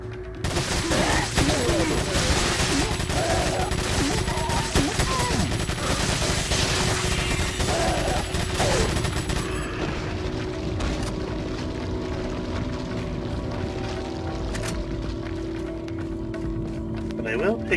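Dense gunfire from the video game Resident Evil 4 rattles continuously for about ten seconds, then gives way to quieter game ambience with scattered shots and bangs.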